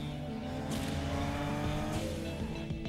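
A 2011 Lexus IS 350 drives past with a steady engine note and a whooshing pass, shifting pitch as it moves, over a backdrop of music.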